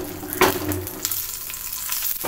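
Vadagam and dried red chillies frying in hot oil for murungakeerai, a close steady sizzle with a brief crackle and stir near the start, no talking.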